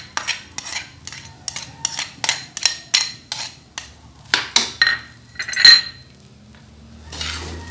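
A spatula stirs fried rice with sliced hotdog in a metal pan, giving a rapid, regular run of close metallic scrapes and clinks, a brief lull, then a few more strokes and a softer rustle at the end.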